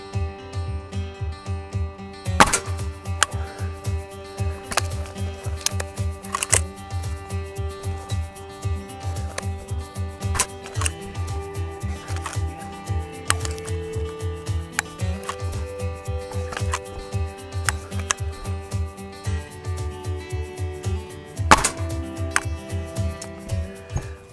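Gamo Swarm Magnum .22 multi-shot break-barrel air rifle firing a string of ten pellets into a backstop, the rapid clicking and ticking of cocking and impacts repeating steadily and fairly faint throughout.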